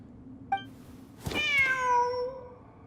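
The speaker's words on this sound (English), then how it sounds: "Wait, there it is! The cat!" A cat in Genshin Impact gives a short chirp followed by a long, clear, falling meow, close and loud against a quiet background.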